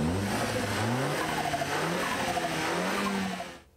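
A 2015 Audi A4 S-Line (B8.5) with a turbo muffler delete and blow-off valve revs and accelerates, its engine note rising and falling in sweeping pulls, loud and close, with no talking.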